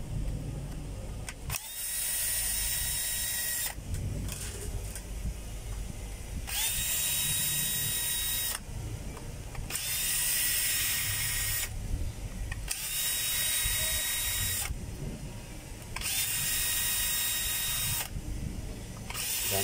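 A power driver backing out many screws to open a device, heard as repeated bursts of whirring, each lasting a couple of seconds and separated by short pauses, close and fairly loud.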